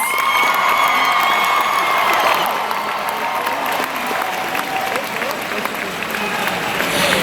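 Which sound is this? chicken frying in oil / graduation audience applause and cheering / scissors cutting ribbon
graduation audience applause and cheering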